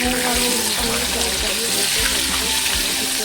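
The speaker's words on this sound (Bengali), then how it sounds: "পটল রান্না করতে তেল গরম হয়ে গেছে এখানে। পটলটা নিয়ে দিয়েছি" Pointed gourd fries in hot oil with a loud, continuous crackling sizzle close by, while someone speaks over it.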